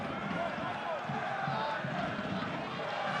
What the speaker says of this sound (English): Noise from the crowd already. The drums are going. The horns are going.